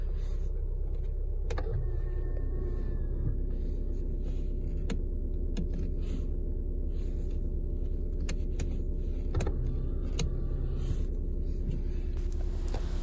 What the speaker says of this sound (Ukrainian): Ось так я вам покажу, як складаються дзеркала автоматично.